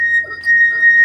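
Wet finger rubbing the rim of a half-filled drinking glass, drawing out a steady, clear singing tone that holds for about a second, with faint hand-friction noise beneath it.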